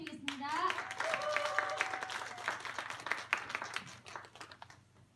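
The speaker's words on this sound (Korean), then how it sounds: "나오실 때 뜨거운 박수로 맞이해 주세요." A seated audience at a Korean Mannatech business presentation claps to welcome a speaker to the stage, a soft scattered patter of hands that follows a brief voice at the start and tapers off toward the end.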